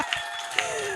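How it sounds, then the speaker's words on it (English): A live jamboree audience on its feet applauds in a steady, dense wash of clapping with a few sharper peaks, under a faint sustained tone and some background voices. "Everybody clap your hands."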